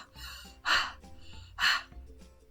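A voice actor imitates a person panting breathlessly, with two loud, sharp gasping breaths spaced about a second apart and quieter breathing between them.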